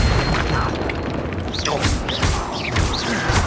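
Confringo blasting spell in a Hogwarts Legacy duel, several swooping magical whooshes and booming impacts over a busy, clattering mechanical battle din, with no speech heard.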